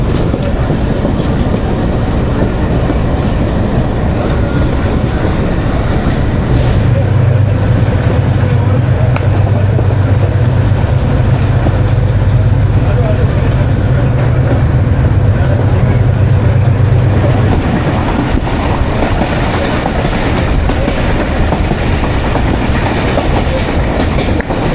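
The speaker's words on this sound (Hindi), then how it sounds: "ट्रेन अभी CNW डिपो पेशावर कैंट के करीब से गुजर रही है।" The Khushhal Khan Khatak Express rolls past near the CNW depot at Peshawar Cantt, giving a loud, unbroken rumble and wheel clatter from start to finish, with a low droning tone rising in the middle.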